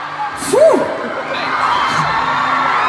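Concert crowd at a show in San Jose screaming and cheering: a steady, loud wash of distant voices with a few whoops rising above it.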